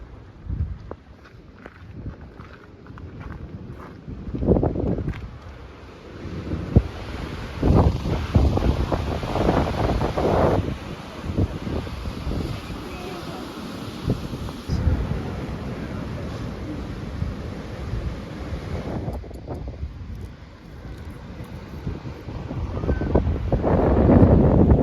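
Strong wind blows across the microphone on Rodeo Beach, gusting in loud rumbling bursts, with surf and footsteps faintly mixed underneath.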